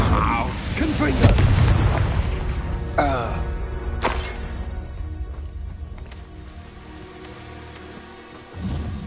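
A Confringo spell blast in Hogwarts Legacy lands with a booming burst, surrounded by other spell whooshes and a spoken incantation.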